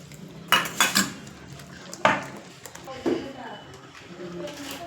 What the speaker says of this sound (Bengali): জল দিয়ে ফেটিয়ে নিচ্ছি, খুব ভালো করে ফেটিয়ে নিচ্ছি।